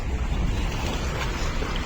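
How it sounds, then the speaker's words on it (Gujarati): Water at an outdoor bathing spot rushes in a steady, loud, broadband roar with no pauses, and wind buffets the microphone throughout. "હવે પાણી નો અવાજ તો જો આવે"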